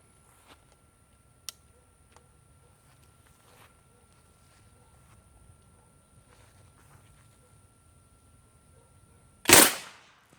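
A PVC air cannon with a solenoid valve, pumped to 300 psi, fires a 62 caliber slug through a chronograph. After a quiet stretch with faint ticks, one sharp, loud, close blast sounds near the end.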